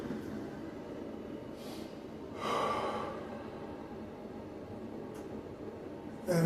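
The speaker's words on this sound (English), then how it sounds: "And then Beatrice takes a deep breath." A deep breath drawn during a film-school skit, a soft airy inhale swelling briefly midway through a quiet, slightly noisy room, with a faint sharper sound at the very end.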